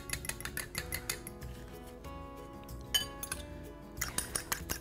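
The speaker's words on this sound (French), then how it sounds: "On va prendre du blanc d'œuf, comme ça, qu'on va venir fouetter pour délier un peu." Egg white being whisked in a bowl, with fast metallic clinking strokes in close bursts at the start and end and sparser taps and a light ringing in between, no voices.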